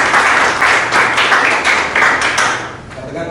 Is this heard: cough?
no